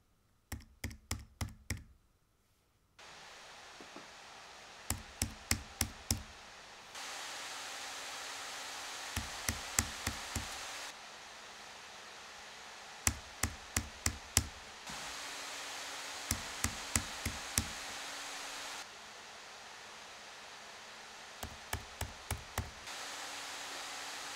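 Asus ROG Zephyrus G14 laptop with Zen4 CPU and RTX 4000 graphics, its fan hiss stepping between quiet and louder levels under varying load, broken by bursts of close keyboard typing clicks.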